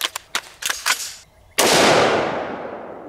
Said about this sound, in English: up next, we're gonna use an AR-15. This is a V7 AR-15.